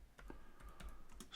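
Soft clicks of a computer keyboard as a route name is typed, a quick irregular run of keystrokes, close but quiet.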